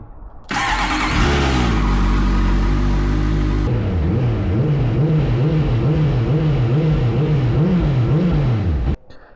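A superbike with a dry chain, back out for the first ride of the season, cranks and catches, then idles and revs in a loud, close, wavering rhythm before cutting off abruptly.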